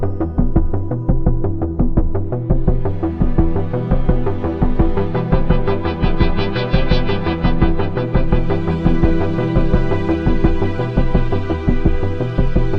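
Layered Arturia V Collection 9 synthesizer tones play a steady, looping pattern with a pulsing bass line and bright sustained chords, loud and continuous with no voices and no added processing.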